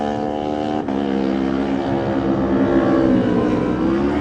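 A KMR Kawasaki race motorcycle leaves the start of a TT Lightweight race, its engine a loud, steady harmonic whine that climbs slightly in pitch as it pulls away.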